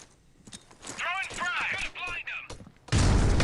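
Gunfire in the mobile shooter Critical Ops during a tournament match, a few sharp shots around voices talking, ending in a loud dense burst of close fire.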